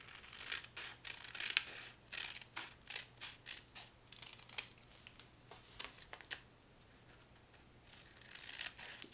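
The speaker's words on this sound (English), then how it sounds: "I'm going to use this paper and the folds I just made as a guideline for cutting my pieces of paper" Scissors snip through folded paper pieces for origami ring streamers in a quick, irregular series of crisp close cuts, with soft paper rustles between them in a quiet room.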